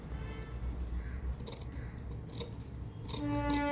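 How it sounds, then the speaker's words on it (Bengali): Scissors snip through blouse fabric, cutting a shaped edge for a full-back blouse. Several distinct close snips come in an uneven rhythm over a steady low background hum, with no talking. "তারপরে সুন্দর করে শেপ দিয়ে কেটে দিতে হবে।"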